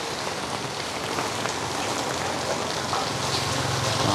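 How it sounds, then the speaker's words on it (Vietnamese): Heavy rain pours steadily on a street in Hue, Vietnam, a dense continuous hiss of drops hitting surfaces, loud and even throughout with no voices. "Sáng nay trời mưa rất là lớn luôn."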